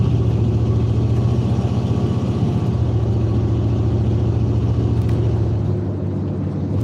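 A BMW motorcycle engine rumbles steadily on the road, a loud, continuous low drone with a pulsing mid-range hum that holds for the whole stretch without any talk.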